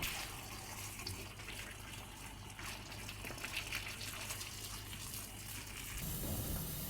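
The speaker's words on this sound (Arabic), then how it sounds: "نزودها ميه مغليه، ما نحطش ميه ساقعه" Boiling water pouring from a kettle onto fava beans cooking in a pot, a steady gushing splash that runs throughout and swells slightly at the end, close by with no talking.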